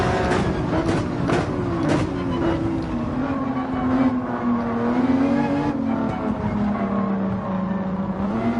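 Porsche 911 and Ferrari race car engines roar and rev loudly in a Gran Turismo 7 drag race, a continuous close engine drone with shifting pitch and brief rising revs, no talk over it.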